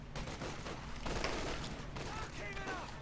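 Heavy .50 cal machine gun suppressing fire in the World War II strategy game Company of Heroes 2, a dense, continuous rattle of distant gunfire and battlefield noise under a speaking voice.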